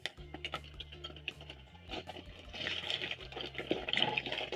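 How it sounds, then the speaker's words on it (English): Potato pieces dropped by skimmer into hot cooking oil for sweet chilli potatoes, a bubbling, hissing sizzle that swells and grows louder over a few seconds, close and steady with no talking. "Using your skimmer, you're going to carefully drop in some more potatoes"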